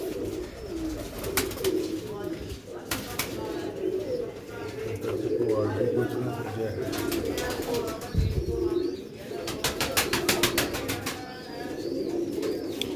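Sialkoti rooftop pigeons coo steadily in a layered chorus, with sharp rattling bursts and occasional chirps mixed in, and someone talking over the birds.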